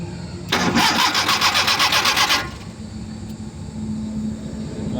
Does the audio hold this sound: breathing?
no